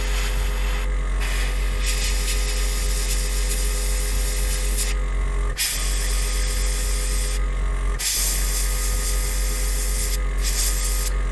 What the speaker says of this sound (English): you'll spray a bit of paint on, you think, oh, that's perfect